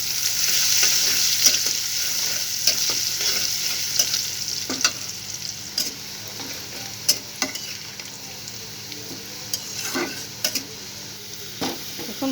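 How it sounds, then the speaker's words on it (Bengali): Sliced onions fry in hot oil until crisp and brown for beresta, a topping for kacchi biryani, giving a close, steady sizzle with scattered clicks and scrapes from stirring throughout and no talking. "এই তেলের মধ্যে কিছুটা পেঁয়াজ আমি বেরেস্তা করে নেব"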